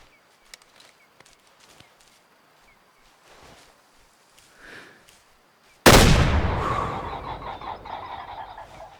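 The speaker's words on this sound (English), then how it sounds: "I pulled out the shotgun." In theHunter: Call of the Wild, a shotgun is fired at a flock in a field: a single sudden, loud blast with a long rumbling tail, after a quiet stretch of faint outdoor ambience, croaks and soft steps.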